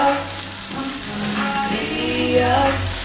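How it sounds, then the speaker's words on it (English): Sausage frying in a pan, a steady close sizzle running throughout with some stirring movement layered over it. "Let the sausage cook for the video."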